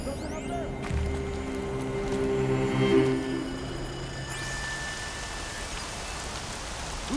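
Rain pours steadily in the video game Horizon Zero Dawn, a constant hiss beneath a voice and swelling tonal music that fades midway, leaving the downpour alone.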